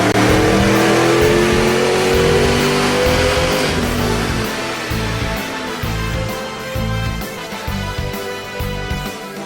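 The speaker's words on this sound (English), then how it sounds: "Let's go ahead and take it for a test drive on the dyno and see how it does." 2010 Ford Mustang GT with a BBK twin 62mm throttle body on a dyno, engine roaring loud and close under sustained acceleration, pitch climbing through the run before easing off into a rough, pulsing idle.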